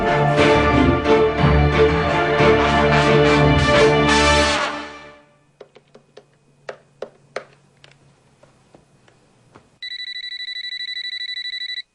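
A telephone rings on, unanswered: after a stretch of music and scattered faint clicks, a steady electronic ring tone starts near the end and holds at moderate loudness.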